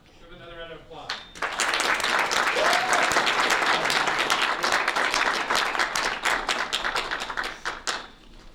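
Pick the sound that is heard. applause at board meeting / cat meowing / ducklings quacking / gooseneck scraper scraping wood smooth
applause at board meeting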